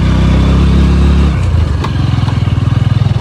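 Bajaj NS200 motorcycle carrying two riders on an off-road trail, its engine droning loudly and steadily up close, then dropping into a throbbing, pulsing low chug as the revs settle.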